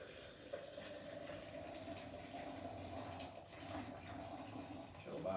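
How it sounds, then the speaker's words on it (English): Hot water from an Epica electric kettle pours steadily into a glass French press, a continuous splashing, gurgling stream close by with a rising pitch near the end as the press fills. "So we'll pour the water in."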